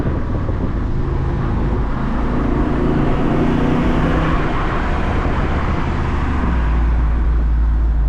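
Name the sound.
Jeep Wrangler Rubicon 392 V8 engine accelerating, paddle-shifting gears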